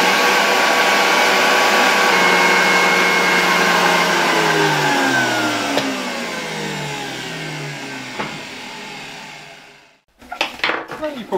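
A Zelmer vacuum cleaner runs loud and steady with a strong motor whine, which slowly drops in pitch as it winds down, then cuts off, followed by a few brief handling knocks.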